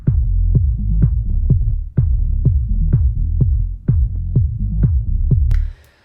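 An instrumental remake blending two tracks plays without vocals: a steady, heavy bass groove with regular punchy hits, loud and continuous, cutting off near the end.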